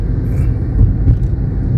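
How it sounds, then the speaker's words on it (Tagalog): Steady low rumble of road traffic on a highway between Batangas and Manila, a continuous engine and tyre drone with a couple of slightly louder passing swells, fairly close and without talk. "Kita nyo yan guys, ang traffic nyan."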